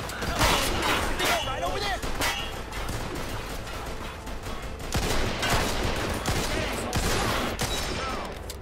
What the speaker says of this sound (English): Oh, he's got a grease gun.